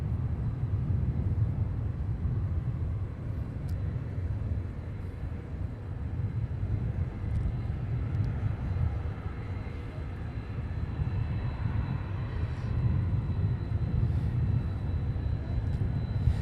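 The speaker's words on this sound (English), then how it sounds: "This week's landing was out of the west." A presidential airplane touches down at Palm Beach, arriving out of the west, its steady, distant engine roar and rumble continuing without a break and with no talk over it.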